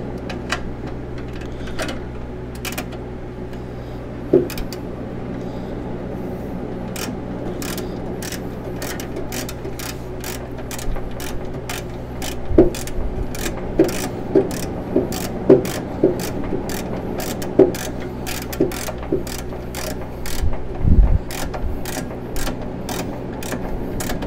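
A ratchet tightens a ground strap bolt in the engine bay of a first-generation Pontiac Firebird. Sharp clicking ticks repeat in irregular runs over a low background, closer and denser toward the end, with no talking.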